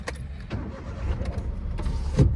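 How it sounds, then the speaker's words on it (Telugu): A 2013-model car engine cranks and catches, rumbling low with a rising surge near the end, close by and without speech. "కానీ ఇంజిన్ ఆన్ చేసినప్పుడు ఏంటి సౌండ్ ఏంటి?"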